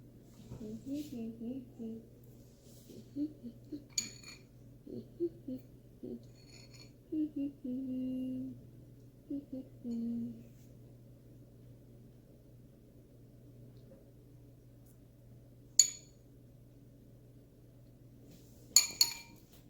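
Two spoons clink sharply against each other while cake pops are dipped into coating: a few isolated bright metallic taps, some under a person's quiet talk and a couple alone near the end.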